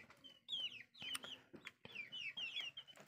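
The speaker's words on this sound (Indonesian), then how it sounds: "Ayam-ayam anakannya nih." High peeping chirps from chicks with a few clucks mixed in, busy and fairly close, with some faint clicks.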